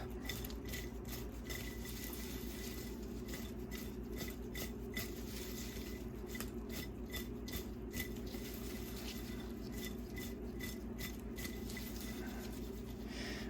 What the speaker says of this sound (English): Pepper in there. Give it a good mix.